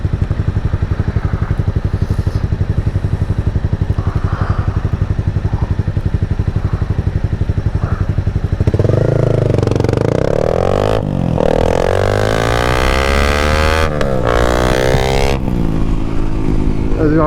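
A motorcycle rides along on the road with a loud, close engine that climbs through several rising revs, each broken by a gear shift.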